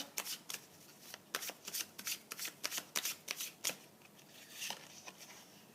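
Tarot cards are shuffled and dealt in a rapid series of crisp riffling flicks and soft slaps, close and clear, with no talking.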